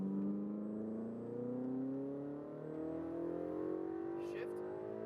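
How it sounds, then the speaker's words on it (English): A Ferrari 488 GTB accelerates off a corner on a race track, its engine note rising steadily in pitch as a continuous, fairly quiet drone, with a voice speaking over it. "Start to accelerate off of the corner as you straighten the wheel."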